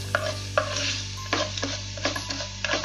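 Urad dal roasting in a pan, repeated scraping strokes of stirring over a light sizzle, close and moderate, with a steady low hum beneath.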